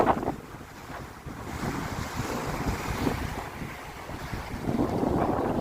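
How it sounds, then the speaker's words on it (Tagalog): Strong ocean waves surge and wash continuously at sea, with heavy wind buffeting the microphone throughout, loud and close, rising again toward the end; no voices. "Lakas ng alon mga guys."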